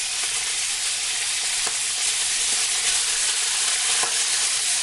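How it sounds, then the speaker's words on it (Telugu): Samosas deep-frying in hot oil, a dense continuous sizzle and hiss holding steady throughout, close and loud with no talking. "అలా దెయ్యం సమోసాల్ని ఆయిల్లో వేసి కాలుస్తూ ఉంటుంది."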